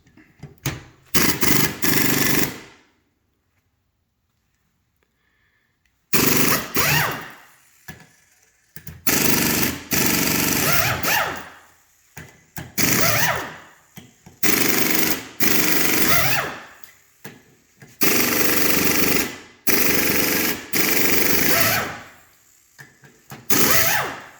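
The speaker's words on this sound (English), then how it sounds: "We'll use an air tool to pop out the Torx and the Allen" A pneumatic air tool hammers out Torx and Allen bolts from a Subaru EJ25 cylinder head in loud, close bursts of a few seconds each, separated by short pauses.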